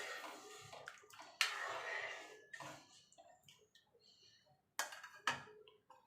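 Water splashes into a pot of masoor lentil dal cooked with onion and garlic, arriving in a few short, fairly quiet pouring bursts separated by near silence and soft clinks.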